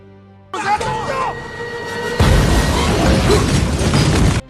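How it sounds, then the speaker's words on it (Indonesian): A leaking flamethrower gas tank explodes in a dramatic film scene, a sudden loud burst followed by a second heavier boom and a sustained roaring crash, with a voice briefly audible early on. "tabung gas penyembur api bocor dan menimbulkan ledakan"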